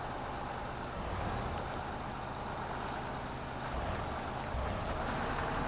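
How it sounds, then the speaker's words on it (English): Truck tyres spinning in a marshy bog in the video game MudRunner, a steady heavy engine drone with churning low rumble, continuous and loud with no pauses. "But we're starting to spin the tyres there."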